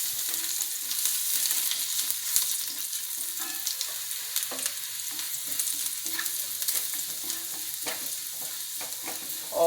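Chopped garlic and ginger sizzle steadily in hot coconut oil in a pan, with a continuous close crackle and occasional stirring scrapes throughout.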